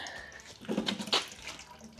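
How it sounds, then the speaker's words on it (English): Half a quart of transmission fluid from a Foxbody's T5 gearbox poured into a bucket, a short, soft trickle and splash lasting about half a second, close and fairly quiet. "This thing is holding like half a quart of transmission fluid right now. Guess I'll pour it in the bucket."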